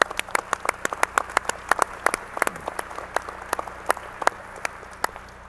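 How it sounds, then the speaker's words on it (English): A small audience at a mayors' lunch claps with distinct, sparse individual claps over a soft room hum, growing thinner toward the end. "I think they deserve a great round of applause"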